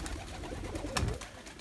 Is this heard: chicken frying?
no